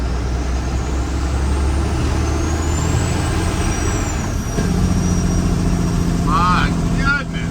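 A truck's engine drones loudly under heavy load in a continuous low roar, with a thin whistling whine rising and fading above it and people talking over the noise.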